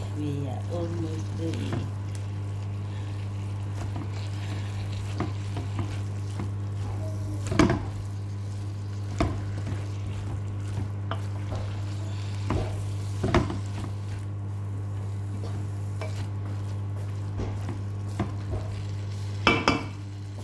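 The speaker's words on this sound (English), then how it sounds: "You fry cabbage, you see." Cabbage frying in a home kitchen pan, soft low sizzle beneath a steady hum, with occasional sharp clinks and scrapes of a utensil stirring against the pan spaced several seconds apart.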